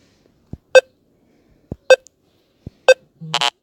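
The Chrome offline dinosaur game, played on a laptop, gives three short evenly spaced electronic jump beeps, each just after a soft tap, then a longer buzzy tone at the end.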